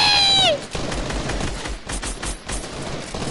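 Rapid automatic gunfire from a video game battle rattles in a dense, continuous burst after a brief high electronic tone, loud and close with uneven pulses throughout.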